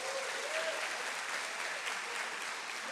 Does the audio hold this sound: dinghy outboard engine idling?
no